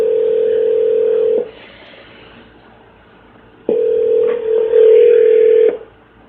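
A telephone dial tone holds steady, breaks off into line hiss, then returns with touch-tone dialing while calling into a conference line; the tones are clear and close with no talking.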